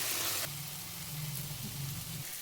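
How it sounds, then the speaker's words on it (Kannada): Ground tomato paste fries in a pan with a continuous close sizzle and hiss, a low droning hum running beneath it for most of the brief moment. "ರುಬ್ಬಿರೋ ಟೊಮೊಟೊ ಫೈನ್ ಪೇಸ್ಟ್ ಆದಮೇಲೆ ಅದನ್ನು ಬಾಣಲಿಗೆ ಹಾಕಿ ಫ್ರೈ ಮಾಡಿ."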